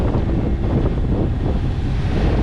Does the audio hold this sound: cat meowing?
no